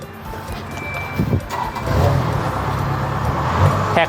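Used rice combine harvester running outdoors, a broad mechanical rumble and clatter with a few sharp knocks and some faint tonal beeping over it, growing slightly louder midway.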